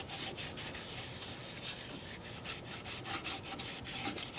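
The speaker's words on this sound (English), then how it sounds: "I just love the way this black cherry sands up." Black cherry wood being sanded on a lathe, a steady close scratchy rubbing with a faintly pulsing rhythm as the spinning piece passes under the abrasive, no voices.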